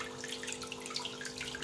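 A small waterfall of recirculating water splashes continuously into an open 36-gallon home aquarium, a soft, even trickle and patter heard alone under a faint steady hum.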